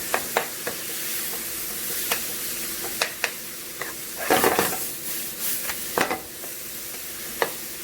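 Cooked eggplant sizzles softly in a pan as it is stirred with spices, with scattered clicks and scrapes of a utensil and a louder stirring burst midway, close and fairly quiet.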